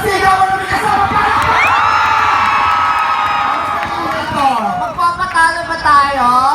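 A rally crowd of supporters in Borongan, Eastern Samar shouts and cheers loudly together, with high excited yells and whoops swelling into a sustained roar before breaking into scattered shouts.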